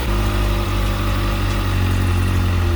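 A Kawasaki ZX6R sport motorcycle engine fitted with a high-performance air filter idles close by while warming up, a loud, even mechanical thrum with a faint ticking pulse and no revving.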